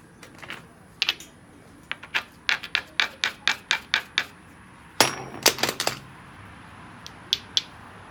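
A small Texas flint nodule is struck during knapping, with a series of crisp clicking taps in quick rhythmic bursts, a louder cluster midway and a few isolated knocks near the end, close and without talking.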